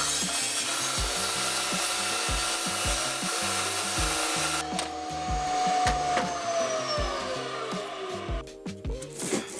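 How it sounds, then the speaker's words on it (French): A plunge saw cuts through a Fermacell wall panel during renovation, a sustained loud grinding whine with rhythmic rubbing strokes, tailing off and thinning out near the end; no one speaks. "une petite coupe à la scie plongeante après la prise des mesures précises"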